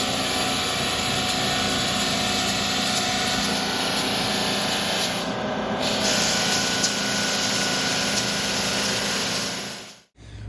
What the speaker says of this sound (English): I am going to attempt to sand the logo and the finish in this area off with a Galaxy residential sander